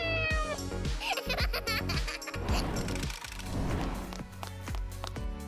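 A cat meows repeatedly in high, wavering calls, close and fairly loud, mixed with squeaky caterwaul-like cries and some background noise across several seconds.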